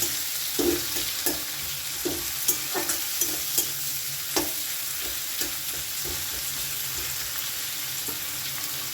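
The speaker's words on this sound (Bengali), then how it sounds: "এর মধ্যে দিয়ে দেব কুচি করে রাখা পেঁয়াজটাও" Steady sizzling of chopped onions frying in a pan, with repeated scraping stirs of a spatula at a loose, irregular rhythm, close up.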